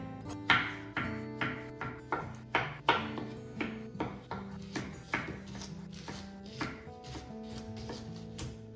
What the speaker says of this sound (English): I wanna go ahead and chop up my potatoes